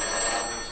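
An analog 1950s-era telephone bell rings at a telephone museum in a short, bright, continuous metallic trill that is close and loud.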